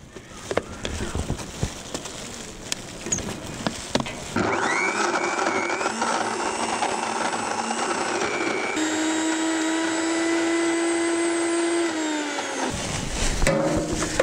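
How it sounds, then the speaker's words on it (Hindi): An electric blender whirs loudly as it blends dry fruits with milk, starting after some handling noise and running steadily with a shift in pitch partway through before stopping. "अब इन सारे ड्राई फ्रूट्स को अच्छी तरह ब्लेंड करेंगे।"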